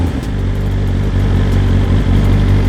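A BMW M 1000 XR motorcycle engine runs at a steady, loud idle right after start-up, a low throbbing rumble with no talk over it.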